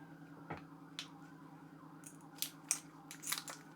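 Scissors cut the end of a piping bag for Duchess potatoes with several short, faint snips in quick succession over a low steady hum.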